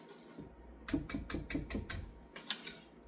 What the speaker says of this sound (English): if you're using your KitchenAid, you can just use your same paddle mixer you had on with the butter